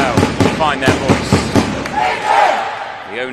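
A football crowd at a partially sighted match between France and England at the IBSA World Games roars loudly in rising, surging chants and cheers, with a commentator's voice over it.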